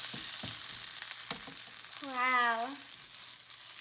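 A Korean vegetable pancake (yachaejeon) sizzles steadily in a frying pan, a soft continuous hiss with faint clicks, while a voice exclaims briefly in the middle.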